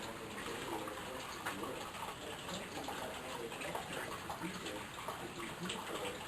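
A sump pump pushes water through a flooded basement with a stone wall, producing a constant, rushing gush of flowing water that stays even and fairly quiet throughout, with no one speaking.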